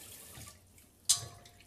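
Zucchini rinsed under a running kitchen tap after a scrubby rubs the sand off. Faint, steady water flows close by, and a brief, sharper splash cuts in partway through.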